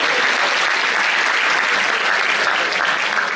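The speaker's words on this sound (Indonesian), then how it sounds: "Tepuk tangan buat Gontor" A crowd at a religious talk applauds for Gontor with loud, dense, continuous clapping from many hands that stays even throughout.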